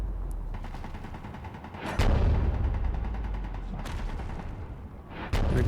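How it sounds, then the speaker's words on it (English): Defensive turrets fire in Space Engineers, a steady rattle of rapid shots under a continuous low rumble, broken by a few louder sharp bursts spaced seconds apart, without any voices. "There go the turrets defending us."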